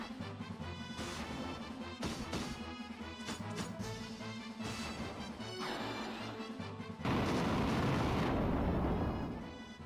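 A fire spell blasting a wyvern-era foe in Final Fantasy II, rendered as a loud, roaring burst of crackling noise that swells near the end over game music with layered crash and smash hits.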